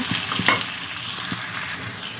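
Potatoes and beans frying in a pan while being stirred, loud close sizzle with a few scraping stir strokes, no voices.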